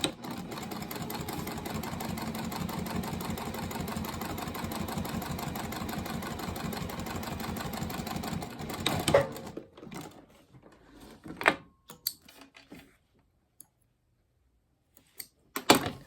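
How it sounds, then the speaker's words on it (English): A sewing machine top stitches seams on a scrappy pouch made from fabric panels: a steady, close mechanical hum for about nine seconds, then stops into scattered clicks, fabric handling and brief knocks. "now I'm going to top stitch this down and into place"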